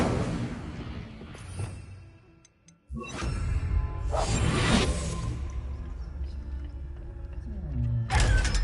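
A fire spell cast in the game Hogwarts Legacy sends out a loud whooshing burst of flame, followed by a sustained roaring blaze with more bursts, mixed with game effects and spoken voices.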